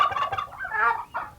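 A male turkey gobbles in a rapid, rattling burst, then calls again after a short pause, loud and close with no talking.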